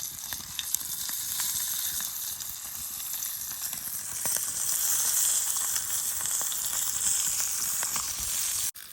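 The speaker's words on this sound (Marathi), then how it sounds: "जे काही मासे मिळाले ते आता इथे फ्राय करून खातोय" Freshly caught fish fries in a pan at a beach campsite on the Konkan coast. The sizzle is steady and close, with crackles and spits scattered throughout and no talking.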